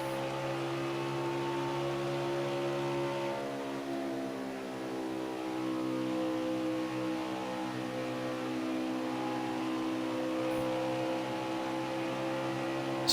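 An onboard engine drones steadily from a stock race car at Texas in a racing video game, its pitch holding high with slight rises and dips, loud and close, with no talk.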